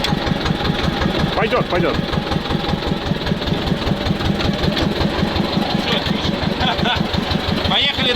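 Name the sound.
T-16 tractor engine running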